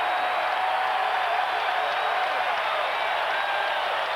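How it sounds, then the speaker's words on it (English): An Indiana Pacers home crowd of over 16,000 at Market Square Arena roars in a sustained wash of cheering and applause during a game against the New York Knicks, loud and continuous throughout. "And this Pacer crowd loves it."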